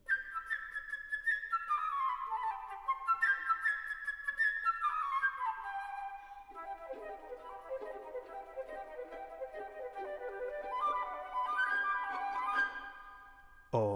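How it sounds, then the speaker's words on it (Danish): A flute plays the little bird's part in an orchestral story for children, with bright, quick, fluttering runs and trills sustained over about fourteen seconds, moderately loud and alone without voices. "den lille fugl bliver spillet af fløjten"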